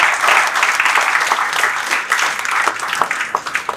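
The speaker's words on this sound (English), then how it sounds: "Let us give a round of applause for Michael Allwyn." Loud, close applause from a seminar audience welcoming speaker Michael Allwyn, a continuous crackle of many clapping hands with no voices over it.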